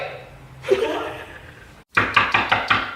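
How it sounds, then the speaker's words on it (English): Four quick knocks on a door follow a moment of soft laughter and murmuring, sharp and fairly close. "Shoot, she's knocking."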